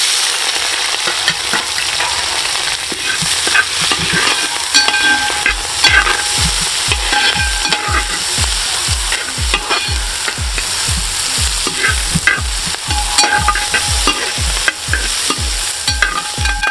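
Onion, ginger, garlic and curry leaves frying in oil for a meat masala, a loud, dense sizzle with rapid rhythmic scraping strokes of a stirring utensil running the whole way through.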